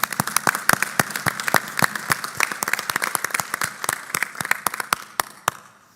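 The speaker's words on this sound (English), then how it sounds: "So let's give our TCOLE staff a round of applause." Audience applause for the staff of the Texas Commission on Law Enforcement at a bimonthly commission meeting, a modest room of sharp, distinct claps in a steady patter that thins out and stops near the end.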